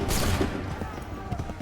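A ragged musket volley in Assassin's Creed 3 Remastered on Xbox One opens with a loud blast, then scattered shots crackle and fade over the next second.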